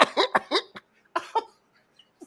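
A voice imitating a whooping cough: a rapid string of harsh coughs followed by a drawn, rasping intake, then a couple of fainter coughs, close and loud.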